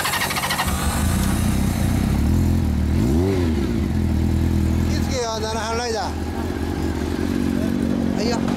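A Honda CB750 motorcycle engine with an aftermarket exhaust idles loudly close by and revs up sharply a couple of times with a deep, throaty exhaust, while people talk over it.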